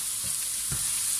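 Minced meat with rice and cabbage frying in a pan, a steady broadband sizzle with a few soft stirring scrapes, close and continuous with no talking.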